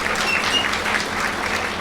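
Crowd applause fills a Tamil poetry stage at a book festival: many hands clap in a thick, even wash of sound, fairly loud and steady, with no talking.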